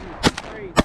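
Shotgun fired at ducks on a Texas coast hunt: two sharp, loud blasts about half a second apart with a smaller crack between them, outdoors with no talk.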